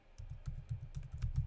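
Typing on a computer keyboard while entering Java code, a steady run of soft, close key clicks with quick irregular taps and no voices.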